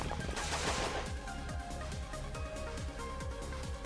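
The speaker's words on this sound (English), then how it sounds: "the sound of gunfire booms around us" Gunfire in the video game Tokyo Necro, a burst of loud shots at the start followed by repeated rapid thuds over a dense, busy game soundscape with music.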